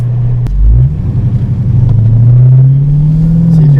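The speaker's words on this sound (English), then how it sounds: "When you get on it, the valves open and let out the sound." A Dodge Hellcat accelerates hard with its exhaust valves open, a loud, close, continuous rumbling roar that swells and climbs steadily in pitch after a brief initial bark.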